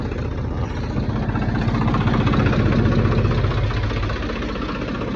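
A Swaraj 855 tractor readied for a Sikh Nagar Kirtan procession idles close by with a loud, steady low chugging rumble, running on throughout without speech.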